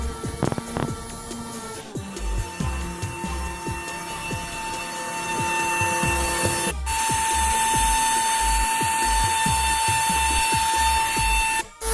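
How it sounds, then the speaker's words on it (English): A CNC machine carves wood in a small workshop with a steady high whine, repeated rhythmic ratcheting clicks and low thumps, pausing briefly twice and then running continuously loud and close. "Let's go check out that CNC."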